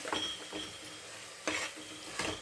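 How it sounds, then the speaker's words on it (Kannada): Masala for pulao is stirred in a pan, with a few quiet scraping strokes of a spoon against the metal over a soft background sizzle, near and fairly faint, no talking. "ಮಸಾಲೆಯನ್ನು ಸ್ವಲ್ಪ ಹೊತ್ತು ನಾವು ಮಿಕ್ಸ್ ಮಾಡ್ಕೊಂತ"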